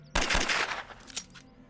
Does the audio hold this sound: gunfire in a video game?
yes